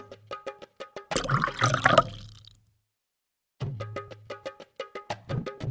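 A drink is poured into glasses, giving a brief gurgling splash of about a second and a half between bursts of quick, rhythmic clicking.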